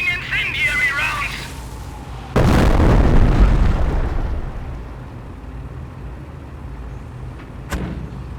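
A sudden loud incendiary-round explosion hits in a Company of Heroes battle, a heavy boom with a long rumbling tail that fades over a few seconds. Game voices come before it, and a smaller crack follows near the end.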